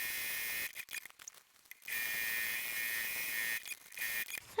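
A sewing machine stitches book pages together, a steady motorized whir that runs in bursts and stops between them.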